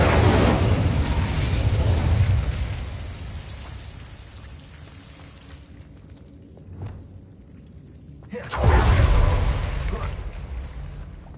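Incendio fire spell cast in Hogwarts Legacy: a loud whooshing burst of flame at the start, a quieter stretch with a brief pop, then another strong fiery roar near the end.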